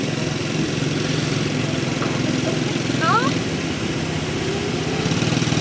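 A quad bike engine runs steadily at a low mid pitch as a girl works the throttle, a continuous droning putter with a slight rise near the end, with people talking over it.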